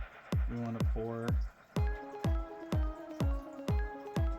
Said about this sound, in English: we want to pour that on there first